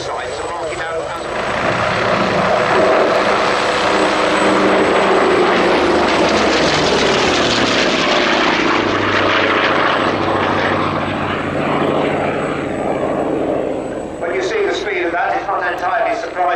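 Hawker Sea Fury piston-engined naval fighter, prototype SR661 (Fury II), flying at an airshow: a loud, sustained propeller engine drone builds and passes overhead, with a commentator speaking over it throughout.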